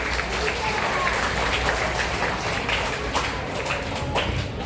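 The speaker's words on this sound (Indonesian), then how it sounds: "Tepuk tangan untuk sini." A classroom of students bursts into loud, steady applause, a thick roar of clapping sustained throughout, with voices mixed in beneath it.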